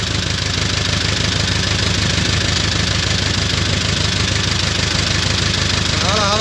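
A diesel construction machine engine runs at a steady idle while air is being bled from its fuel system, giving a loud, continuous, close rumble with a slight knocking texture and no break.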